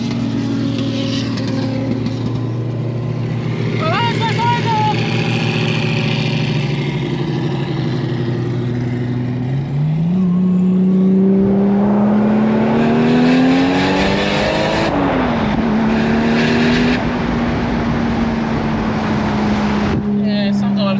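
A car engine with a big exhaust runs loud and close, holding a steady rumble before revving up around the middle and settling back, with people talking over it.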